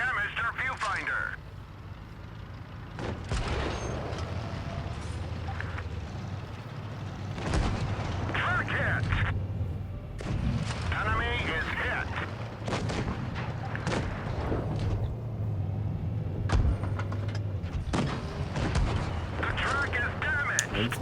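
Tank cannon shots and shell hits ring out in a World of Tanks Blitz battle with an M48 tank, a string of booming blasts and impacts over continuous battle rumble, with a voice talking over them.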